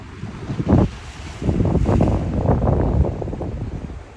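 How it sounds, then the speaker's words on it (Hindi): Wind buffets the microphone over waves washing onto a Ko Samet island beach, with gusty surges and a low rolling roar, close and fairly loud. "पानी का आवाज आ सकती है अभी भी।"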